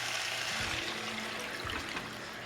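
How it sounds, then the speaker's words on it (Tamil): Water pours into a pot of Tamil-style mutton curry, a steady close trickle and splash that runs throughout with a couple of brief gurgling surges and no talk. "தண்ணி ஊற்றுறேன்."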